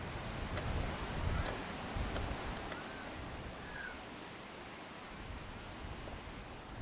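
Strong wind gusting outdoors at a mixed pairs tournament final, a steady broadband roar buffeting the microphone throughout, loud and continuous with no voices.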